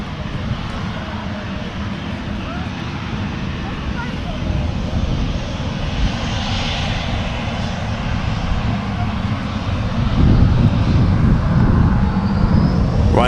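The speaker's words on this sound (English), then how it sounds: "We've got another one taxiing out at the moment, just over there." A Ryanair airliner taxis at Manchester Airport, its steady engine roar filling the scene with wind buffeting the microphone and growing louder toward the end, while people talk over it.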